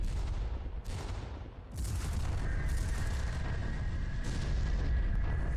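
Explosions in the Freespace 2 space combat game: loud booming blasts, one at the start, another near one second and a larger rumbling one that swells and sustains over a steady low roar, with a faint tonal hum underneath.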